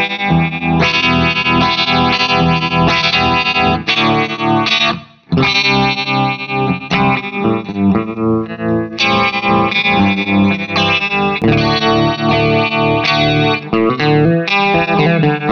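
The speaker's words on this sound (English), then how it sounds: "you need a flanger that sounds great no matter where" Hagerman Flange flanger guitar pedal shaping a loud, distorted electric guitar riff with a sweeping, jet-like whoosh, playing continuously with one brief break near the middle.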